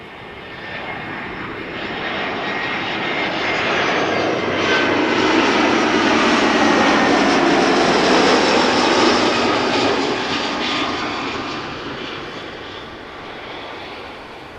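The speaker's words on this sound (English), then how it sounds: "EasyJet A319 arriving from Bristol, flight 25530." An easyJet Airbus A319 jet arriving at Amsterdam Schiphol from Bristol roars overhead on approach, a loud broadband engine rush that swells to a peak mid-pass and slowly fades, with no voices.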